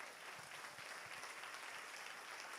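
A church congregation applauds during a Spanish-language sermon, continuous brisk clapping from many hands, moderately distant and steady throughout.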